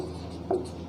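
A single quick stroke of writing on a board gives a brief scratchy squeak in the middle of a short, quiet moment, with no voice over it.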